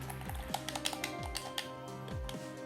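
Rapid clicky button presses on a PDP Rock Candy wired controller for the Nintendo Switch, a dense run of close, sharp plastic clicks with low thumps underneath and no voice.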